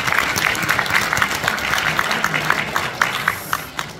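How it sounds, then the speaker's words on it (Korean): A seminar audience on the 42-year history of the Pumba performance breaks into a burst of dense, close applause, many hands clapping at once for about four seconds. "서로 격려 박수로 시작할까요?"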